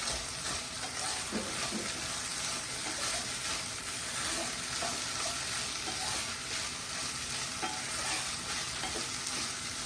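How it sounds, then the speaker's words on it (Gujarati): Carrots, peas, green beans and corn stirred in a hot pan for a kashmiri cashew paneer pulao, with a steady close sizzle and frying hiss running throughout alongside soft scraping stirs. "અને હવે એમાં એડ કરીશ આ છે carrots peace and green beans and corn add કરી દઉં છું"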